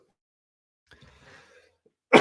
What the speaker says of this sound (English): This cough is no joke, man.